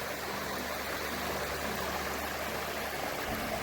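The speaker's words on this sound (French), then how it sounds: "Et au milieu, coule une rivière." Steady rushing water of a river on Réunion island flows continuously, a broad even roar close by, with no voices.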